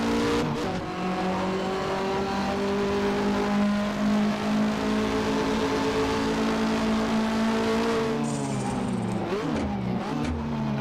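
Touring car engines from the 1985 to 1992 Australian Touring Car Championship, including a VK Commodore, drone and rev loudly and steadily in Assetto Corsa racing, with a brief tyre squeal near the end.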